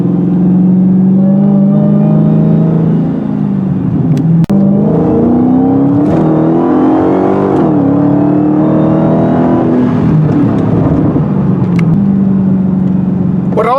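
A 2017 Dodge SRT Hellcat accelerates hard, its engine loud and close, with a deep rumble and harmonics that climb and fall through several gear changes over about fourteen seconds.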